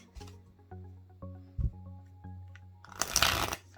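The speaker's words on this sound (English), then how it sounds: "we'll do a riffle shuffle too" Tarot cards riffle shuffled together in a quick crackling burst near the end, preceded by softer taps and handling of the deck against a low steady hum.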